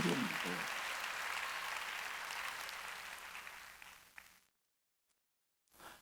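Church congregation at a Wednesday worship service applauding steadily for about four seconds, then stopping abruptly into silence, followed by a short final burst of clapping.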